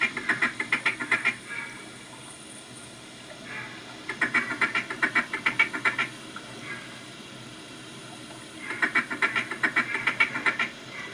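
Ducks quack repeatedly during a duck hunt, in three rhythmic bursts of loud, close calls separated by quieter gaps, with a flock returning overhead.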